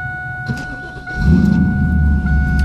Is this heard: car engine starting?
yes